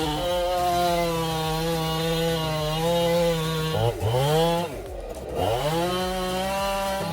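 A chainsaw cuts into a large cedar tree with a hollow core, its engine whining in a sustained loud tone that dips twice as the chain bogs down in the wood and then revs back up.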